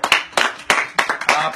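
Applause at a local sports-club news show in Italy, a short burst of several loud, sharp handclaps in a steady rhythm, close and prominent.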